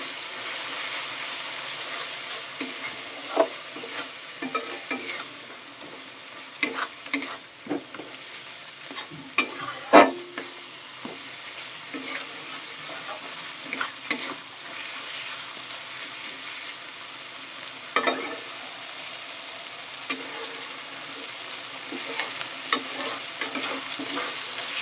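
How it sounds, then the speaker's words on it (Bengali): A spice paste with Kashmiri chili powder for chicken chana masala is stir-fried in a pan, with a steady close sizzle and irregular spoon scrapes and clinks scattered across a long stretch, and no voices. "লঙ্কার গুঁড়ো, কাশ্মীরি লঙ্কার গুঁড়ো দিয়ে খুব ভালো করে কষিয়ে নেব মশলাটা।"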